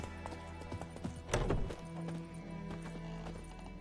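Hooves of Roach, a horse in The Witcher 3: Wild Hunt video game, clip-clop in a steady gait, with a short louder burst of movement partway through over a low ambient game bed.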